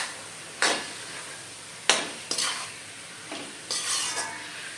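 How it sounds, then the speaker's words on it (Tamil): Chicken with garlic paste is stirred and fried in a pan, bursts of loud sizzling each time the spatula scrapes through, about five separate swishes over a quieter background hiss. "சிக்கனு எல்லாம் போட்டு கிண்டிக்கிட்டு இருக்கேன்"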